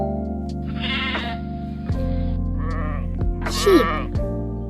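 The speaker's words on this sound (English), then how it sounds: "Sheep." A sheep bleats several times in short, wavering calls over a steady low background hum, close and fairly clear, with one louder quavering bleat near the end.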